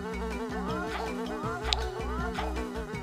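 Bees buzz in the Ninja Bread Man video game: a steady, close, wavering drone that rises and falls throughout, with no talking over it.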